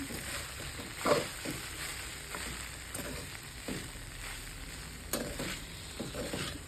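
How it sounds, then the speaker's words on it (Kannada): Poha (flattened rice) is stirred in a pan, with a soft sizzle under scattered scraping taps of a spoon against the pan, fairly close and without speech. "ಇದೆಲ್ಲನೂ ನೀಟಾಗಿ ಮಿಕ್ಸ್ ಮಾಡ್ಕೊಳ್ಳಿ."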